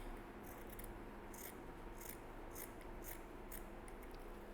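Scissors make quiet, repeated snipping and rustling sounds while cutting fabric close to a fresh seam, with several short cuts against a faint background hiss.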